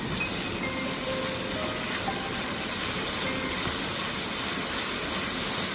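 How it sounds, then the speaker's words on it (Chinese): Pork with salt, chicken powder and dark soy sauce stir-fried quickly in a wok, giving a steady, loud broadband sizzle and hiss with no pauses and no talking. "再快速的翻炒，炒出酱香味"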